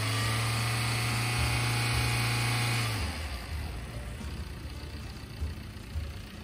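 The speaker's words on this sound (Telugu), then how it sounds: "విన్నారుగా ఇంజిన్ సౌండ్ ఎలా వస్తుందని చెప్పేసి" A 2016 Tata Indica eV2 car engine idles nearby with a steady, droning hum. About halfway through, the low tone drops off and a rougher, quieter running noise carries on.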